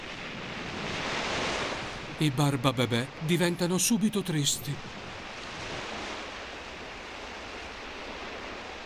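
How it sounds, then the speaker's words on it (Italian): Stormy sea waves and rising wind roar as a steady broadband wash, swelling and easing, with a voice speaking briefly over it in the middle before the surf and gusts carry on alone. "Il sole si nasconde, si alza il vento e il mare inizia a diventare grosso."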